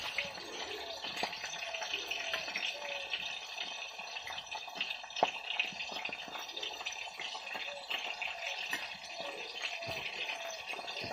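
Tamarind shells being rinsed clean under running water, a soft continuous trickle and splash with small drips and handling knocks, faint and close, without speech.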